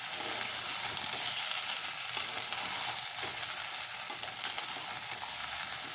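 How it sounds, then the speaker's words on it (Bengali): Mixed vegetables for shukto sizzle and hiss in a pan while being stirred, a continuous bright frying sound with occasional soft scrapes of the spoon, heard close with no talking. "এবার আমি ভালো করে নাড়িয়ে চাড়িয়ে নেব।"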